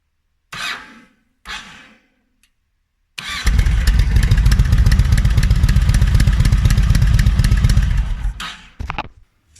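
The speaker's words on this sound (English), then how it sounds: "pull that open to fire the bike up" A Yamaha Silverado 1700 motorcycle with a starting issue: two brief attempts, then the engine catches and runs with a loud, steady close rumble for about five seconds before cutting off.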